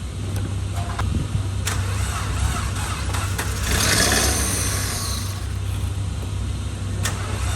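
A Mazda Protege5 with a vacuum leak cranking and trying to catch and idle, with a steady, noisy engine drone and a few sharp clicks, heard close up.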